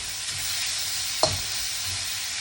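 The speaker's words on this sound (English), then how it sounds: "you want to be sure they got some stir fry taste in there" Chicken and ham stir-frying in a hot pan, a steady close sizzle with one quick scrape of the spatula midway.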